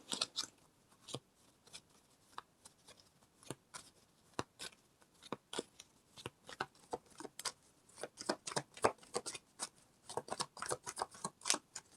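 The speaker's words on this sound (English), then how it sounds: "So I think we're going to pull one more card." Tarot cards being shuffled and drawn from a deck, a run of sharp papery flicks and snaps, irregular and close, growing denser toward the end with no talking.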